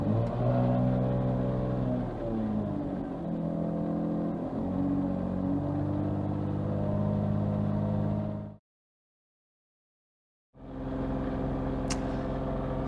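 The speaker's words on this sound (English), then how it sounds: "Now raise the idle speed with the accelerator pedal to 2000 RPM for 1 minute." A BMW M3 Competition engine is held at about 2000 RPM, a steady, close whirring hum that cuts out completely for about two seconds and then returns at the same level.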